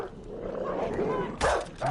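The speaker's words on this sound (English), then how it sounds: "Oh, we have 2 dogs attack." Growling, snarling attack dogs from the video game Far Cry New Dawn, with a sharper burst near the end, set beneath a player talking over the action.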